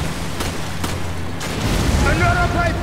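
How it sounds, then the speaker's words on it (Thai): Grenade blast in the video game Resident Evil 5: a dull, rumbling boom over a dense wash of combat noise, with sharp cracks scattered through and a swelling roar near the end. "มันปาระเบิดลงมาด้วยเหรอ"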